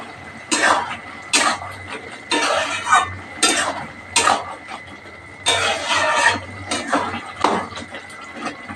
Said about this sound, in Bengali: এবার এর মধ্যে ধনেপাতা কুচিগুলো দিয়ে দেব, দিয়ে ভালো করে মিক্সড করে নেব তরকারিটা